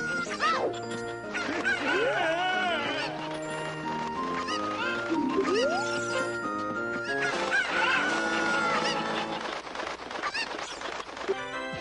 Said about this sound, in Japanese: 普通の鶏に紛れている3匹のスーパーコッコを30秒以内で見つけ出すゲーム。